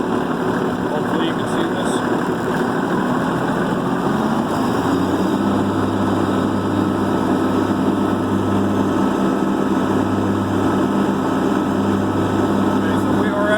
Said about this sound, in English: Okay, so I'm going to bring my PTO in. We're going to bring the RPMs up.